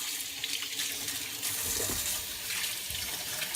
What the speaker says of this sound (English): I rinse them under cold water just to clean them off a bit